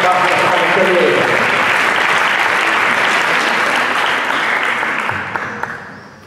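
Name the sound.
applause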